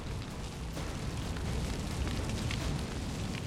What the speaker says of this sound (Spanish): Aquí llegan disparos.